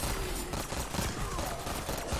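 Rapid automatic gunfire from a weapon in Black Ops 6 Zombies, a dense sustained burst of shots with no gaps, loud and close over game noise.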